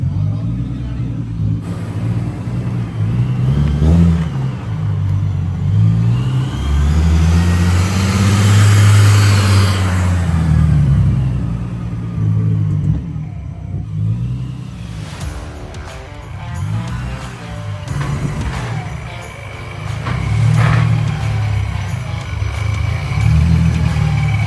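Supercharged car engine fitted with a Vortech blower revving hard through repeated dyno pulls, loud and close, rising and falling in sweeping waves with a whining overtone, voices faintly under it.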